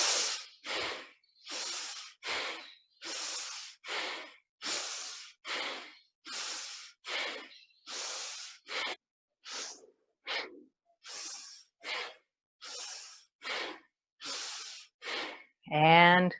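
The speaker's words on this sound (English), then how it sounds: "Those of you guys that can do your Bastriki, we're going to do one more round." Rapid, forceful bhastrika yoga breaths during a class come as a steady train of about twenty sharp, close exhalations, evenly spaced with brief gaps between them, and end in one longer, louder breath.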